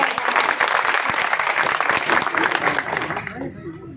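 Audience applause at a trade association district gathering in Fatehpur, Uttar Pradesh, a dense steady clapping crowd filling the hall for about three seconds before thinning and fading out.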